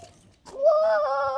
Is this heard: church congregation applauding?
no